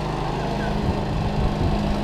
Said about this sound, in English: I got my lawnmower.